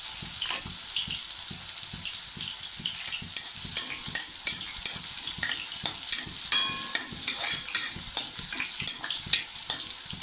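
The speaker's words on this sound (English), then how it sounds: "Add chopped ginger. Add chopped garlic. Saute them thoroughly" Chopped ginger and garlic sauté in a hot pan, with a bright continuous sizzle broken by a steady rhythm of spatula scrapes and stirs, loud and close with no voices.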